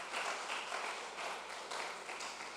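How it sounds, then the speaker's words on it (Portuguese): A church congregation claps for the Lord, a soft, even patter of many hands heard from a distance throughout. "As palmas para o Senhor."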